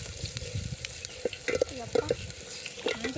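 Chopped onion frying in a pan while cooking outdoors in a farm field, a soft steady sizzle with scraping stirs and a few sharp clicks of a utensil against the pan.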